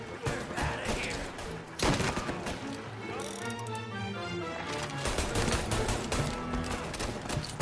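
Rapid gunfire bursts in Mafia Definitive Edition, with dense crackling volleys that run almost continuously, a sharp loud onset near two seconds and a sustained ringing tonal stretch in the middle.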